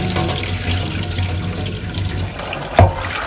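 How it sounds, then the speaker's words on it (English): Soaked beans being rinsed under a running kitchen tap for Neapolitan pasta e fagioli: a steady, close rush of water, with a short thump near the end. "Now I'm rinsing the beans that have been soaked overnight."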